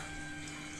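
An aquarium water-change pump sucking water, a steady humming whir with running water, faint and continuous, no voices.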